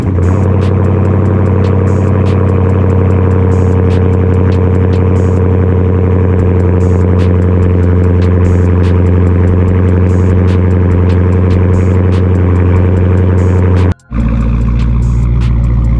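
A Dodge Challenger Scat Pack engine idles loud and steady from a cold start on a chilly day, with a deep constant drone that cuts off abruptly near the end and then resumes.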